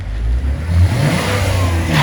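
A BMW E46 engine revs steadily up close, a loud, deep, continuous drone with small rises and dips in pitch and no voices over it.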